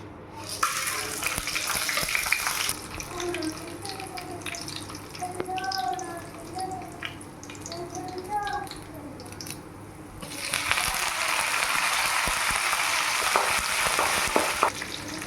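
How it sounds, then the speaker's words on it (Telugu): Tempering spices crackle in hot oil in a pan for puri curry, a loud sizzle that eases into a quieter middle stretch with a voice and scattered pops, then surges again. "ఆయిల్ అయితే వేడెక్కింది ఇప్పుడు పోపు వేసుకోవాలి"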